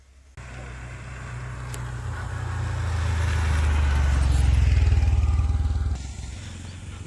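A small three-wheeled auto-rickshaw approaches with a buzzing engine, grows louder as it passes close, then fades away, near Punade Dam in Uran.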